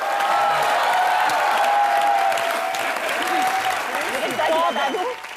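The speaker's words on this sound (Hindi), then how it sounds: "और ये पागल सुनील ग्रोवर के लिए भी जोरदार तालियां हो जाए।" A studio audience at a comedy show gives Sunil Grover loud, sustained applause, a steady wash of clapping throughout, with cheering and whooping voices rising over it toward the end.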